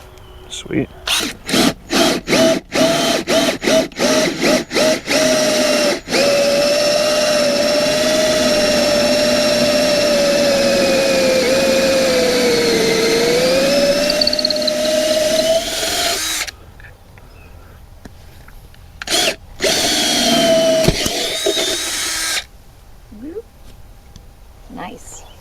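Quick stuttering trigger pulses, then a drill with a 1-inch bi-metal hole saw bores steadily into an old hardwood tree outdoors, its pitch dipping under load, before stopping with a few short bursts.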